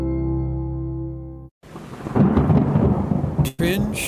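A thunderstorm with heavy rain: a deep rumble of thunder gives way to a dense, steady roar of downpour, loud and close, broken briefly by a sharp gap and crackle near the end, with no voices.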